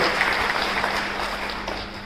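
Audience applause at a seminar on accessible justice held by Bharat Vikas Parishad, a crowd clapping steadily at moderate volume, slowly thinning toward the end over a faint steady hum.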